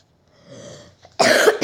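A person coughs close by, a harsh burst of two quick coughs after a brief throaty rasp.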